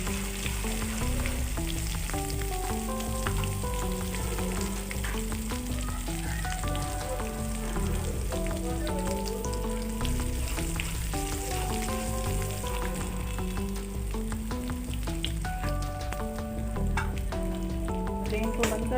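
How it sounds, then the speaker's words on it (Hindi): Garlic and ginger paste frying in a pan for a dal tadka gives a steady, continuous sizzle that runs the whole way through, partly masked by background music. "लहसुन अदरक का पेस्ट हमने लाइट गोल्डन करना है।"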